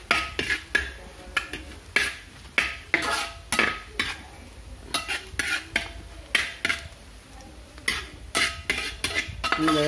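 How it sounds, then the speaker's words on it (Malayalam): Pork tripe being sautéed in a pan, a spoon scraping and clanking against the metal in irregular strokes over a faint background sizzle, close and fairly quiet, no voices. "ഏകദേശം ഇങ്ങനെ നമ്മൾ വഴറ്റിയെടുത്തുകൊണ്ടിരിക്കുകയാണ്."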